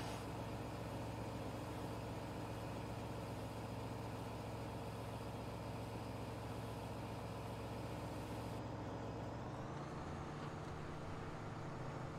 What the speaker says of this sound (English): I was hearing the truck much better